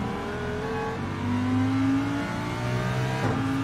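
Race cars in a GT touring car championship final round accelerate out of corners, engines droning and revving steadily with rising pitch, a continuous close engine note with no talk.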